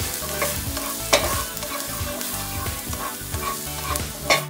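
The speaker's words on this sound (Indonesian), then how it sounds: "Kalau minyaknya sudah panas, masukkan bawang putih, aduk-aduk." Garlic sizzling in hot oil in a pot while being stirred, a steady close frying hiss broken by scraping spatula strokes, with no voices.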